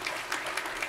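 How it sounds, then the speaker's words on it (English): A church congregation applauds during a Sunday service, with dense, even clapping from many hands throughout a short stretch. "Let's give Justin a round of applause."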